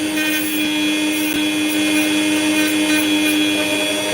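A Dremel rotary tool runs continuously at high speed, a loud, steady whine with a few small bumps as it catches the work, with no talking.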